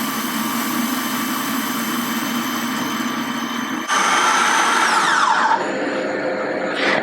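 A blender blitzing pine nuts whirs steadily at a constant drone, then jumps to a harsher, louder pitch that winds down as the blades slow.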